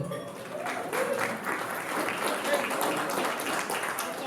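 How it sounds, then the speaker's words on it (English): An audience at a Startup Grind Calgary event gives itself a round of applause. The clapping is dense and sustained at moderate loudness, with some crowd voices mixed under it. "So give yourselves a round of applause."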